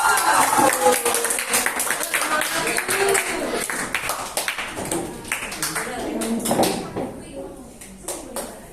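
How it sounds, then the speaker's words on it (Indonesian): A ninth-grade Indonesian-language class claps for a student group, with scattered, uneven hand claps and taps mixed with voices talking across the room. "Yuk kita berikan tepuk tangan dulu untuk kelompok."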